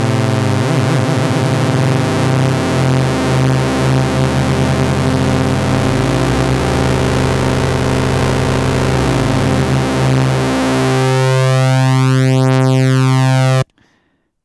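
A Vermona synthesizer's second oscillator drones loudly with its first LFO modulation brought in, the pitch sweeping and wobbling through dense, buzzing harmonics for about fourteen seconds before cutting off abruptly.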